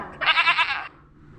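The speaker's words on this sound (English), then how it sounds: "Goat." Goat bleat played in reverse, a single wavering, buzzy cry that swells and then cuts off abruptly, loud and close with no talk.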